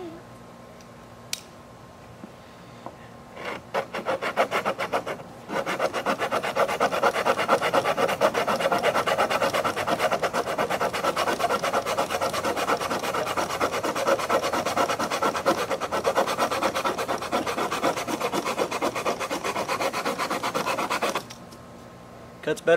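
A cheap Home Depot sheetrock hand saw cuts through wood in a fast, steady rasping back-and-forth that runs close and loud for most of the stretch, after a few short strokes at the start.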